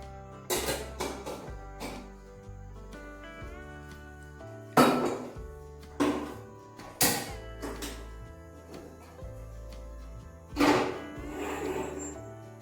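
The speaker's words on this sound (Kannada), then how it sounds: "ಈಗ ಕುಕ್ಕರ್ ಲಿಡ್ ಕ್ಲೋಸ್ ಮಾಡಿ 2 ವಿಷಲ್ ಮಾಡ್ಕೊಳ್ತೀನಿ." Several sharp metallic clanks and clinks of a pressure cooker lid being fitted and closed over cooking moong dal, spaced irregularly over quiet background music, close by.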